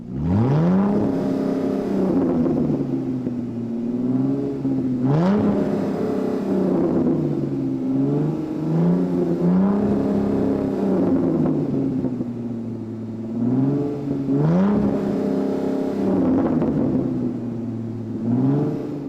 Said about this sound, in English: So first, I gotta move my pickup truck, so let's get that done.